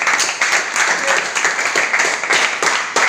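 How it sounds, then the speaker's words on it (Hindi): An indoor audience at a training seminar applauds, a dense, steady patter of many hands clapping at moderate loudness with slight rhythmic surges. "इस सिस्टम के लिए एक बार जोरदार तालियां होना चाहिए भाई"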